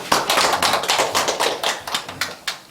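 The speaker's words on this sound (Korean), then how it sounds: "우리 환영의 박수 하겠습니다." A church congregation claps in welcome during a Sunday worship service, a brisk, close round of uneven hand claps lasting under three seconds.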